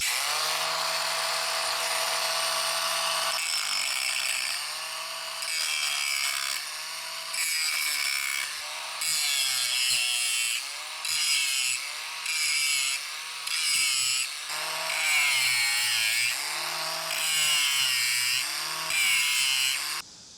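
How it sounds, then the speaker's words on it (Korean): A cordless angle grinder grinds an H-beam, pressed hard under heavy load, producing a loud, continuous high-pitched whine that dips and recovers in pitch repeatedly over about twenty seconds, with no talking. "연마 작업 먼저 시작해 보겠습니다"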